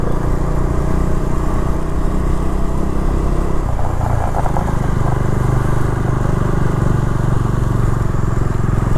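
Motorcycle ridden over a rough road in Nagaland, its engine running steadily and close throughout with loose nuts and parts rattling, no speech over it.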